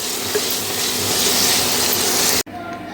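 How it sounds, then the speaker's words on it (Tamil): Tomatoes sautéing in a pan for a ragi-based chutney side dish, a steady loud sizzle with stirring scrapes that runs continuously, then cuts off abruptly near the end, followed by quieter sizzling. "தக்காளி பழம்லாம் நல்லா வதங்கி வந்தாச்சு."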